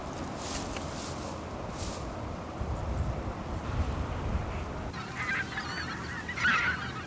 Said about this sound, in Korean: 기러기들은 먹이를 먹을 때도 무리를 이룬다. 만찬을 즐기는 기러기들.